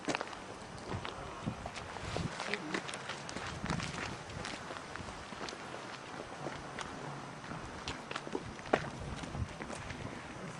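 Footsteps crunch along outdoors at a steady walking pace on a windy day in Turkey, with light wind noise in the background.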